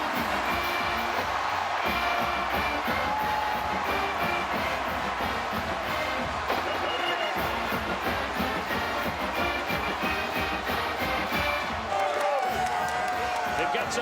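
Big college football stadium crowd roaring after a touchdown catch at Purdue, a broad sustained cheer filling the whole stretch with a commentator talking over it.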